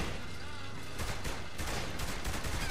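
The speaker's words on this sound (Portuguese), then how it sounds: "Aí, agora eu peguei metralhadora" Dense, sustained machine gun fire in Saints Row The Third, a continuous rattling roar that swells after the first second, loud and unbroken with no clear gaps between shots.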